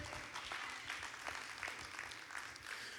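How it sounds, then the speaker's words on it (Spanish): A church congregation claps steadily and densely for a few seconds during a sermon, the applause filling the room at an even level without pause. "Creo que le puedes dar ese aplauso más fuerte."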